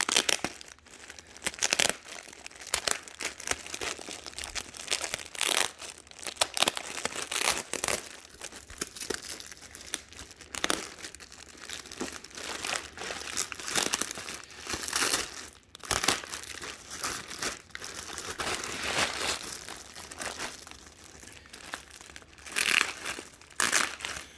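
Packing tape crinkles, rips and scrunches as it is pulled off a tightly taped eBay shipping box. The handling goes on in irregular bursts, close up, with no talking.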